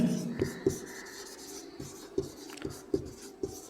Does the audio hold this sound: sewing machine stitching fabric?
no